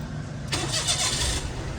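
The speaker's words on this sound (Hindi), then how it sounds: "पहले गाड़ी हम स्टार्ट कर लेते हैं।" A car engine cranks and catches after a wiring fault was fixed, a short burst of starter noise that settles into a steady running engine, close and moderately loud, ending with a brief sharp knock.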